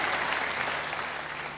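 Applause from a congregation at a church sermon, a dense, steady clapping that fills the space and slowly fades toward the end.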